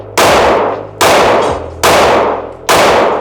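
Four loud, sharp gunshots from a Ruger 5.7 pistol, evenly spaced about a second apart, each a close, hard crack with a ringing tail that fades before the next shot.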